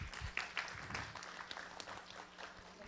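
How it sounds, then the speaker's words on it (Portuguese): Applause for a guest at a church Sunday school class, a thin, faint scattering of claps from a small group in a room, uneven and quiet throughout. "Vamos dar uma salva de palmas para ela"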